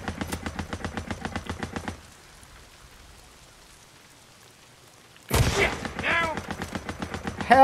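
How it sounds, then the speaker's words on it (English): Gunfire in the video game Days Gone: a rapid burst of evenly spaced shots, then a near-silent pause before a sharp loud blast and more quick repeated shots, with a voice briefly heard. "I love the way that gun sounds when they slow it down."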